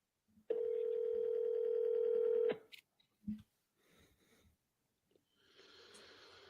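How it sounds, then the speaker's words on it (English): A cell phone places a call: a steady, loud dial tone holds for about two seconds, then cuts off, followed by faint clicks and soft breathing and rustling until a quiet hiss begins. "But since I'm doing it for my cell phone, I'll just dial once."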